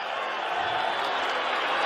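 A basketball arena crowd at a Carolina versus Tennessee game roars and applauds as it rises, a dense, steady wash of cheering that swells slightly, with a commentator talking over it.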